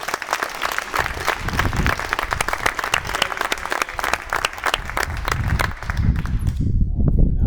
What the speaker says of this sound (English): just another quick round of applause for these guys